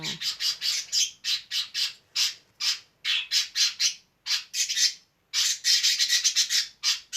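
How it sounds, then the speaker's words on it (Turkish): Pet birds kept at home squawk in rapid bursts of harsh, rasping calls, loud and near, repeating in uneven clusters with brief gaps and no talking. "Kuşlarım var evde. Kuş besliyorum."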